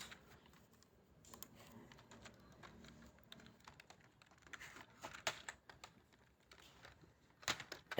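Code being typed on a computer keyboard, quiet irregular clicking keystrokes in quick bursts with brief pauses, close and soft.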